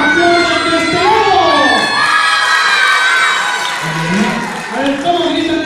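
Children in a theater audience at a kids' show shout and cheer loudly in a sustained, excited roar, their high voices rising and falling together for several seconds.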